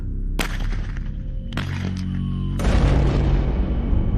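A novel explosive blast, heard as a sudden sharp boom followed by further cracking impacts and a broad rumbling roar that lingers and slowly fades, loud and close with no talk.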